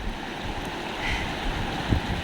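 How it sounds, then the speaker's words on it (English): Water from a fountain in a cold, windy spot in Sikkim flows in a steady, continuous rush, with some wind noise mixed in and no talk over it. "Look at the water, look at the fountain, look at the sound, just feel the sound."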